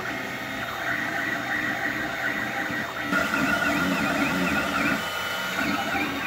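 An Anet AM8 3D printer fitted with the BLV mod runs about two feet away, giving a steady, fairly quiet mechanical whir with faint stepper motor tones and a constant fan hum throughout.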